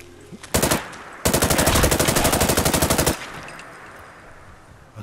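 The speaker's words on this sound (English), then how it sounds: "But that is certainly gunfire right here." Gunfire in the video game Fallout 4: a short burst of automatic fire, then a longer sustained rapid volley of loud shots, followed by quieter ambient game sound.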